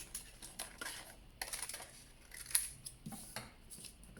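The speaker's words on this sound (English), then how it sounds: "Remember, when you're cutting, move your paper around." Scissors snip paper into flame shapes, making a close, quiet series of crisp, irregularly spaced cuts with brief pauses between snips and no voices.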